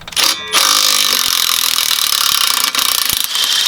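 A 17 mm wrench works loose the steering knuckle from the strut on a 1989 Acura Integra, giving loud, continuous metallic ratcheting close by with no voices.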